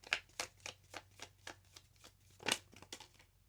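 Tarot cards are shuffled and drawn up close, a quick series of crisp riffles and soft flicks in an uneven rhythm, with no talk.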